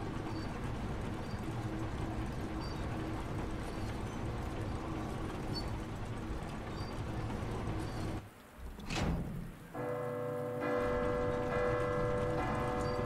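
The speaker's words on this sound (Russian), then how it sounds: "Видимо, в колокол забить." Church bell struck in the Resident Evil 2 video game, one loud resonant clang near the middle after ambient game sound drops away, followed by a ringing tonal decay over a steady background.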